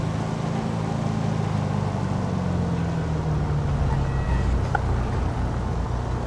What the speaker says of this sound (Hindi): क्या मस्त गाड़ी चल रही है ना दोस्तों